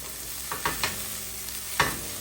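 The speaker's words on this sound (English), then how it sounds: "I'm just going to mix it in with the rest of the vegetables" Toasted ingredients are stirred into vegetables in a pot for a one-pot lentil bolognese, making several scraping, shuffling strokes with soft sizzling between them, close and fairly quiet.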